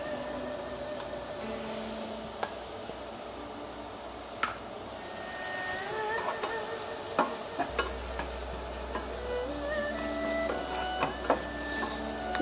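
Mushrooms and garlic fry in oil in a pan with a continuous close sizzle. Scattered clicks and scrapes of stirring sit on top, and a low hum appears partway through.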